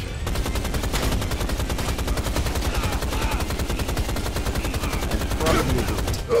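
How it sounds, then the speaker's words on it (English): A rocket launcher fires in a video game as a dense, continuous burst of rapid rattling blasts that stays loud and close throughout. "It's a rocket launcher."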